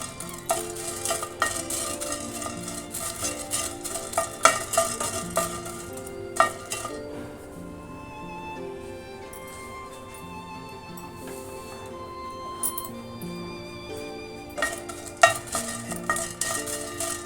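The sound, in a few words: dry roasting peppercorns and chillies on low flame, stirring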